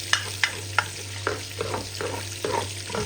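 Adobo browning in a hot pan, with a steady close sizzle broken by several sharp scraping stirs of the spatula, and no voices.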